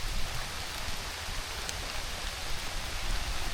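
Steady rain falls on a tropical island in Thailand, a dense continuous hiss of drops with no talk and an even loudness throughout.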